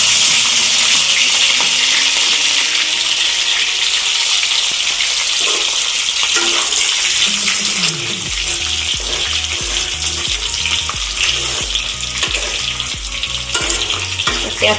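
Capsicum sizzles in hot oil with steady, loud frying crackle filling the whole stretch, joined partway through by clattering stirs and utensil knocks against the pan.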